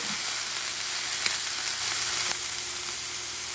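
An elk steak sizzles in a hot pan with a constant close-up crackling hiss and a couple of faint pops.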